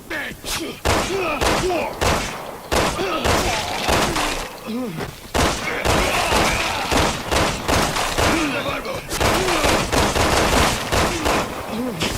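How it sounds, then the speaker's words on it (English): Repeated shots from the 909 handgun fired at a standard J'avo in the video game Resident Evil 6: loud, sharp reports in irregular bursts with short gaps, alongside creature growls and a voice. "I would say between 5 and 7 shots with the 909 to take down a standard Joavo"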